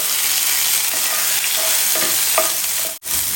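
Ground spice paste frying in hot oil with mustard seeds, cumin, dried red chilies and hing for urad dal, a loud steady close sizzle with faint stirring ticks and one brief cut near the end.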